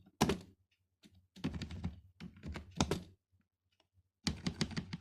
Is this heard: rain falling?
no